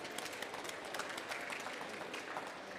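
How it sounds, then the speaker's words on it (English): An audience at a COP27 Africa Pavilion panel applauds, dense steady clapping from a crowd at moderate distance that holds evenly for a few seconds. "Another round of applause"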